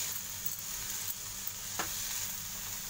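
Semolina and curd batter with vegetables is stirred in a pan, giving a quiet, steady wet hiss with a few soft scrapes and taps, without any talking.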